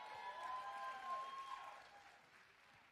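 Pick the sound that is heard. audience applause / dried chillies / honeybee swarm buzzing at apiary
audience applause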